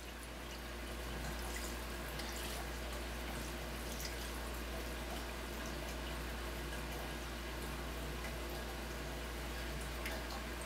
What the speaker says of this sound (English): So now I'm just going to continue to pour lightly. We'll get the maximum amount of wort out of this as we can, and the strainer is going to catch all those hop particles.